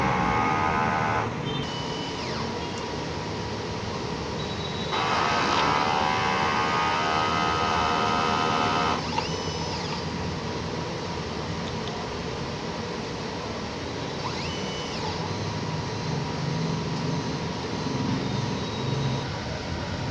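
A DTF printer runs a head-clean cycle, giving a steady mechanical hum with ticking and a louder motor whir partway through, plus faint scraping or whirring bursts later on.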